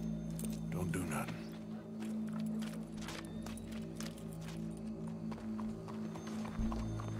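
Horse sounds from the video game Red Dead Redemption 2: hoof clip-clop and horse movement heard faintly under a steady low hum and quiet game ambience, with a brief voice.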